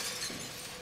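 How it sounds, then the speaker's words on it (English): A brief, faint crash of a glass window shattering in the game Soma, a single short break with a soft scattering tail. "Maybe we smashed the window."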